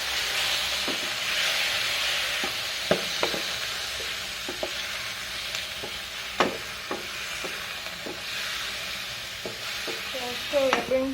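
Meat for chicken stew browns in a pan, a steady sizzle and hiss with scattered pops and scraping stirs, close by and without talking.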